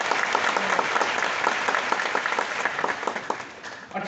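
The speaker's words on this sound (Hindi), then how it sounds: "तो एक बार जोरदार ताली दीजिए सभी लोगों के लिए।" An audience at a business seminar claps steadily, crisp dense applause from many hands filling the hall, tapering slightly toward the end.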